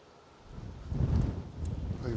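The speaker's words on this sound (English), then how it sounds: "Even the bloody wind's blowing me phone here." Outdoor wind buffeting a phone microphone, a rough low rumble that swells after the first half second and stays strong to the end.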